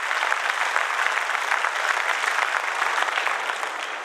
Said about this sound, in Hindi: तालियां बजाकर मेरी बात का समर्थन।